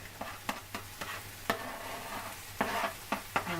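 Onions and red pepper sizzle in olive oil in a pan, a steady frying hiss with repeated sharp scrapes and taps of a spoon stirring, close and alone without talk.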